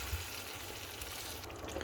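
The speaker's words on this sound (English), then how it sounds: "So that's going to sizzle away for about 20 to 25 minutes until it's reduced to half the amount you see right here." Spicy tomato chutney sizzles faintly in a pan over medium-high heat, a soft, steady hiss and crackle with no voices.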